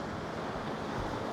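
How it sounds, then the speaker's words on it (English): Ocean waves wash into a rocky bay, a steady, loud, close roar of surf and foamy water with wind noise and no voices. "waiting for a nice big wave to come and fill my foreground with some foamy water"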